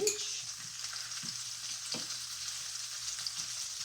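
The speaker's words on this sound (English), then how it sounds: "So now I'm putting in the sausage" Already-cooked beef sausages sizzle in a pan with cabbage, a steady close frying hiss with a few soft knocks as the pieces are moved.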